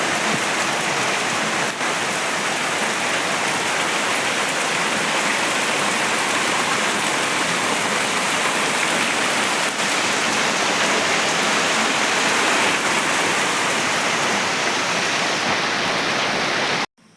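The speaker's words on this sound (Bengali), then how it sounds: "কিছুক্ষণের মধ্যে বৃষ্টি শুরু হয়ে গেল" Steady, dense rain falls without a break, a constant loud hiss of drops hitting surfaces that cuts off abruptly at the end.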